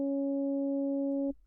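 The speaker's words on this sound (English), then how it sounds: "Amount determines how much the LFO affects the filter," A steady synth tone runs through Ableton's Auto Filter with the LFO amount modulating the filter; the sustained harmonic note holds evenly for over a second, then cuts off abruptly, leaving faint low rumble.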